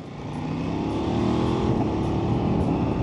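An Aprilia RS 660 sport motorcycle accelerates on a city road, its engine note swelling and climbing steadily over a few seconds, close and loud with road and wind rush underneath.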